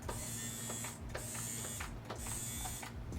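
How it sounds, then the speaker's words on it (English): A CNC X WE Plus machine runs continuously after a pedal press, giving a steady mechanical whir with a rhythmic rise and dip about once a second, close and unaccompanied by speech. "once we press the pedal, as you can see, it's running on continuous"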